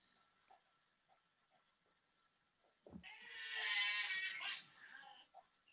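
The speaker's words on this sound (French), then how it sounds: "Ah, Jade, regarde mon petit chat." A small cat lets out a single drawn-out meow, rising and falling over about a second and a half. It is close and clear after a quiet stretch with a few faint ticks and taps.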